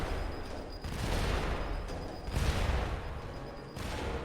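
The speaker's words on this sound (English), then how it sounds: "We have to push this portal over and activate the bombs to get through here." Bombs in the side-scrolling game Badland go off in a string of rumbling, crackling explosions, fairly loud and continuous with a few surging bursts and no talking.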